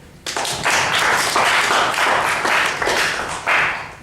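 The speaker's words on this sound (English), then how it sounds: "we're going to have a round of applause for the 3 volunteers" Audience applause for three volunteers at a public speaking training session, a burst of clapping from a modest group that starts abruptly, swells in waves and stays fairly close and steady for several seconds.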